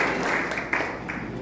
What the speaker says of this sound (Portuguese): Você pode aplaudir ao Senhor pela mesma ocupação.